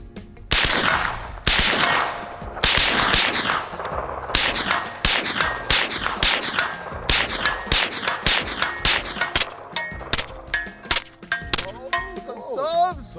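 Rifle shots fired at a target ring out loud and close in a rapid, fairly regular string, followed by a few voices near the end.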